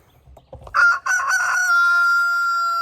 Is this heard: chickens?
yes